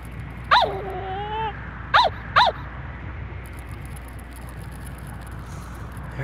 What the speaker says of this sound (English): After all, you are a Pomeranian.